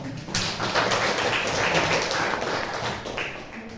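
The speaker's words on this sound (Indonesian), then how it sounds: "beri tepuk tangan semuanya ya" A class clapping hands together, a brief burst of dense, close applause that swells quickly and fades after a few seconds.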